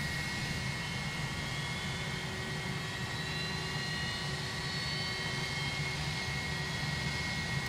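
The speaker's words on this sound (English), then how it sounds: "he's just getting his engines going in front of me there." Airliner jet engines spool up in X-Plane 11, a steady, even roar with a faint rising whine, constant in loudness across the whole stretch, with no voices.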